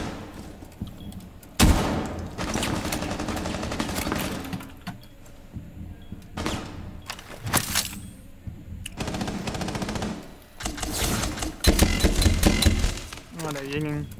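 Gunfire in a multiplayer shooter game, bursts of automatic shots and single cracks recurring across the stretch, loud and close, with players talking over and between the shots.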